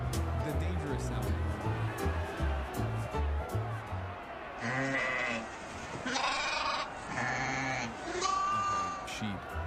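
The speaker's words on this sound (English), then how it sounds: "Okay, sheep." Sheep bleat in a string of wavering, nasal calls that come through a steady bed of talking, with some calls louder and closer than others.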